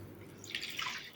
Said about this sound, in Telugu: వాష్ చేసుకున్న వాటిని ఉండే నీళ్ళన్నీ వంపేసుకోండి.